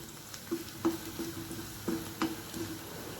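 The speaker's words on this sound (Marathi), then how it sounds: "आता आपण याच्यात हे सर्व मसाले घालून घेणार आहोत. 1-2 मिनटं छान असं परतून घ्यायचं आहे" Spices for coconut modak bhaji sauté quietly in a pan, with a soft steady sizzle broken by a handful of sharp spoon scrapes and taps against the metal, close by and otherwise uncluttered.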